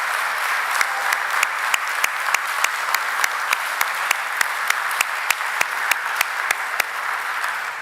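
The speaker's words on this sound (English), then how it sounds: "Big round of applause" Sustained applause from a crowd at a city board of aldermen meeting honoring a girls softball program, dense steady clapping with a few sharper individual claps standing out in a regular rhythm.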